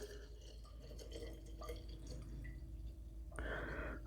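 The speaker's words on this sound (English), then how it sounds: "pour it back into the same jar after I've rinsed it out" Elderberry tincture trickles and drips as it is poured back into a rinsed jar, a faint, close liquid pour with small splashes and a brighter glassy fill near the end.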